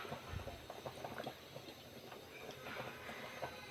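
A pot of rice boils quietly, with soft bubbling and gentle rumbling pops continuing throughout, faint and without voices.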